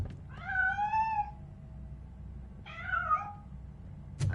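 A cat in the video game Robocop: Rogue City gives two drawn-out meows a couple of seconds apart, clear and fairly close over a low ambient hum, with a short sharp noise at the end.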